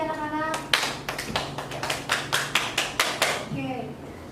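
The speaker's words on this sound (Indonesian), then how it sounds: "beri tepuk tangan ya untuk kelompok ini anak-anak" Students in a classroom clap for a group of classmates, a burst of hand claps and taps running for a few seconds with a teacher's voice speaking over the start and end.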